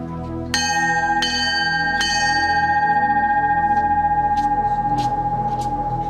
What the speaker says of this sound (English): The bell sounds, and 8 more men ring out of Class 234.